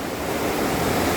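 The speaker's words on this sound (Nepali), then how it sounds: "यो खोला तर्ने अहिले त खोला पनि ठुलो आएको छ।" A swollen river rushes beneath a bridge in Nepal, a loud broad continuous roar of churning water filling the whole moment with no voices.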